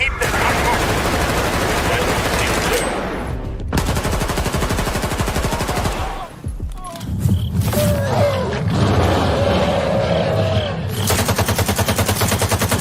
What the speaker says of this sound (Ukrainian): чудові звуки звуки стрільби, ти справді відчуваєш вагу і калібр